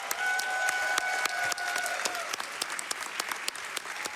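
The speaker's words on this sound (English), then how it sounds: "So can I get a round of applause for just these two alone?" Audience applause at a speedrunning marathon charity event, a dense steady wash of many hands clapping with sharp individual claps standing out, loud and sustained throughout with no talking.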